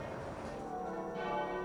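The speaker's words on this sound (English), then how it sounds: "The bells tolling for Her Majesty at St. Paul's and at Westminster Abbey" Church bells toll for the death of the Queen at St. Paul's Cathedral and Westminster Abbey, a brief stretch of rich, sustained ringing with overlapping tones and no voices.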